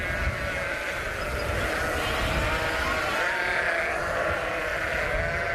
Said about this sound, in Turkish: Yüzlerce kuzu anneleriyle buluştu.